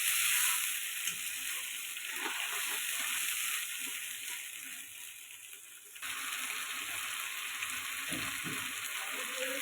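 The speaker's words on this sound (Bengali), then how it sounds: "টমেটো পেস্ট করে রেখেছি, এটা দিয়ে দিব। ভালো করে এটাকে কষাতে হবে" Tomato paste fries for a katla fish kalia, giving a loud, continuous sizzling hiss from the pan with small bursts of spatter and a short drop in level partway through.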